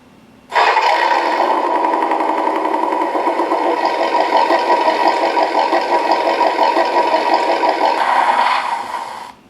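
A simulated truck engine start from a Beier RC USM-RC-2 sound and light controller: a steady mechanical rumble kicks in abruptly, runs loud and even for about nine seconds, then cuts off.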